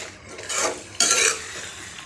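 Onionless tomato thokku being stirred in a pan over low heat: two short scraping strokes of a spoon against the pan, close and clear, with a faint sizzle underneath.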